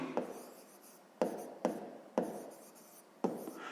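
A pen writes numbers by hand on paper for a sixth-grade maths exercise: five short scratchy strokes, close and quiet, each starting sharply and trailing off.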